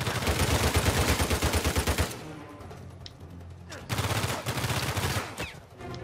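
Gunfire in the video game Uncharted 4, a rapid automatic burst of close, loud shots for the first two seconds, then scattered bangs and another stretch of sustained fire before fading.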